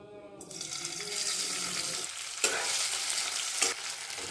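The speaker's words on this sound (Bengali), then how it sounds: "প্রথমে হালকা একটু কম করে তেল দেবো, এটাতে পনিরটাকে ভাজবো।" Paneer fries in a small amount of oil in a pan, giving a steady close sizzle and hiss with a couple of sharp scraping stirs partway through.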